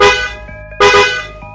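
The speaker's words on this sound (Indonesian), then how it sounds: "Kalau klakson pendek 1 kali terus ditambah 2 kali" Car horn sounding in a short coded pattern, two clear close honks, a brief one and then a longer blast after a short gap.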